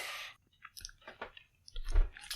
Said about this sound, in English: It takes a bit of chewing.